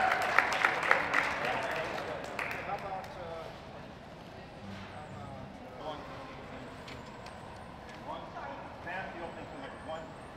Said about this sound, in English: Now you can applaud if you want, I guess.